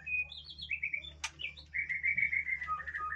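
A white-rumped shama, a breeding bird kept in captivity, sings a string of clear, whistled phrases close by, with one sharp click partway through and a low steady hum underneath.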